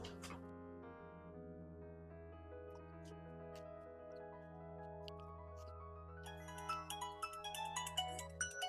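A mobile phone ringtone plays a steady melodic tune with sustained tones for about nine seconds in a Punjabi household drama scene, brighter high notes joining toward the end.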